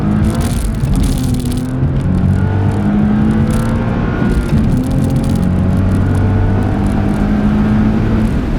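A 2014 Nissan 370Z Roadster's exhaust accelerating up a highway on-ramp, heard from inside as a steady engine drone with rising tones as it pulls through the gears.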